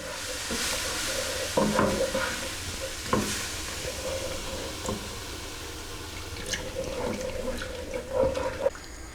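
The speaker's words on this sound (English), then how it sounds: "So now I'm going to add the milk, just a little bit at a time." Milk is poured a little at a time into a pan for potato dauphinoise and stirred, giving a soft wet sizzle with scattered scraping and clinking of a spoon against the pan, close but fairly quiet.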